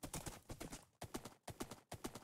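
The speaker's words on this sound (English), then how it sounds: "it just runs right up the blocks, the one-step blocks" Horse hooves galloping on blocks in Minecraft, heard as quick rhythmic clip-clop beats in four close bursts, fairly faint and alone.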